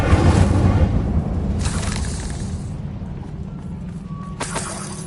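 An Incendio fire spell cast in Hogwarts Legacy erupts as a loud, broad burst of whooshing flame that fades into a lingering crackle over background game ambience, with a brighter flare near the end.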